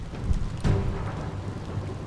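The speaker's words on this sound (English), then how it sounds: "It's freaking raining." Heavy rain hisses steadily in the Biomutant video game, with a short low thunder crack breaking through just past the half-second mark before the downpour carries on.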